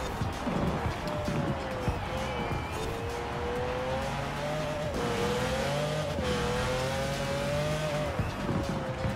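Engine of a 2017 Aston Martin Vanquish Zagato in Forza Horizon 4, droning steadily with shifting pitch as it slows under braking, with tire squeal and a voice talking over the game sound.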